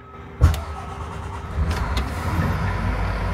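A brand-new 2024 Prevost H3-45 coach bus engine starting: a sharp click, then a low rumble that builds and settles into a steady deep running sound, heard close with no talking.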